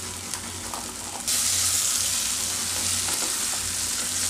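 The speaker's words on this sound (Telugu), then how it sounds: "ఇలా మధ్యలో కదిలిస్తూనే ఉండాలండి, లేకపోతే కొంచెం మాడిపోతుంది కింద" Eggplant coated in coriander chili paste frying in a pan and being stirred. A steady sizzle crackles throughout and grows noticeably louder and brighter about a third of the way in.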